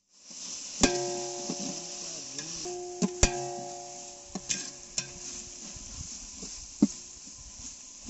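Ginger paste frying with browned onions in a pan, a steady soft sizzle broken by sharp clicks and scrapes of a spoon stirring against the metal, with no talking.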